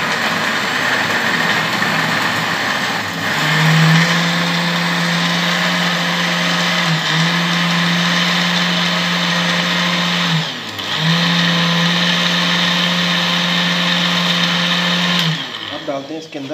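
A blender making strawberry juice whirs loudly and steadily up close, pausing briefly twice before resuming its constant motor hum.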